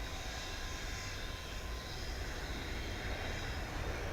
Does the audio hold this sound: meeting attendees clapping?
no